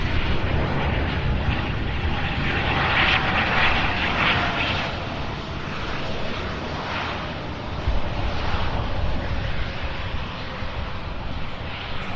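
A UPS Boeing 757 cargo jet arrives from Providence, its broad engine roar holding steady and fairly loud for the whole stretch, swelling slightly in places without pause.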